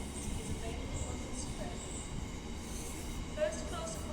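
An Aurora train at Derby station on the Midland Main Line, heard as a steady, close rumble of rolling stock throughout with faint squeals and background station noise.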